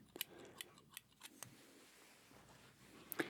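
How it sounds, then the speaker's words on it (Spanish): Steel scissors trimming the ends of hair in a luxury home hair salon, quiet close snips in a loose irregular rhythm, a few soft clicks spaced apart with a louder double snip near the end. "Despuntamos un poquito el cabello para que se vea más natural."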